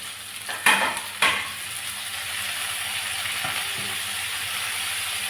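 Onion, tomato and capsicum frying in a pan for a paneer roll, a steady close sizzle after two short clatters of stirring at the start.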